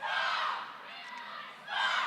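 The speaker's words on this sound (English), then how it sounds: "as Treasure Valley does their cheer right in front of me" The Treasure Valley roller derby team chants its cheer up close as a loud group shout, which dips briefly in the middle and then swells again at the end.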